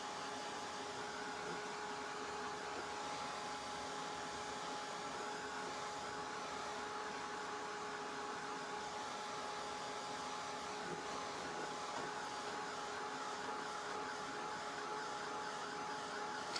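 Heat tool blowing hot air into a mason jar to dry coffee granules, a loud, steady, unbroken whirring rush with a faint tonal whine that runs at the same level from start to finish.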